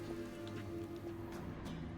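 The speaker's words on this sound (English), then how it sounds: "You can probably hear the rain outside, right?" Soft, steady rain patters outside a cave in The Witcher 3, a faint continuous hiss with a low background hum and no talk over it.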